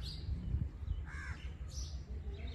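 Crows cawing among other birds on a morning in the Kashmir hills, a few harsh calls at moderate distance over a low rumbling background.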